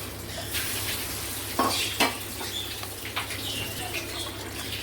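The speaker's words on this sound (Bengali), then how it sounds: "এবার আস্তে আস্তে এর মধ্যে দইয়ের মিক্সারটা কিন্তু ছেড়ে দেবো।" Yogurt mixture for kadhi going into a hot pan, a quiet continuous hiss with a few sharp clinks of utensils against cookware.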